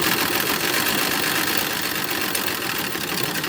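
A sewing machine runs steadily at close range, stitching binding onto the sleeves of a 1910s-1920s style toddler romper with a continuous, even whirring rattle and no pauses.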